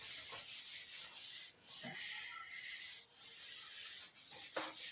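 Steady dry rubbing of a duster or cloth erasing writing on a board during a maths lesson, a continuous scraping swish with a few brief pauses, fairly faint and close, with no talk.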